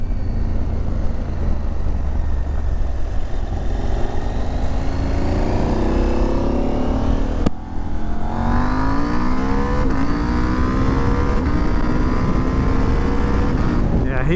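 Husqvarna Norden 901 motorcycle pulling hard up a highway on-ramp: loud onboard engine note climbing steadily in pitch, a brief gear change midway, then another long rising pull, with heavy wind rush throughout.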